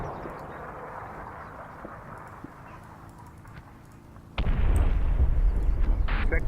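Artillery fire mission in the WWII wargame Combat Mission Final Blitzkrieg: a quiet, murky stretch of distant rumble gives way to a sudden loud, sustained roar of explosions and blasts that continues to the end.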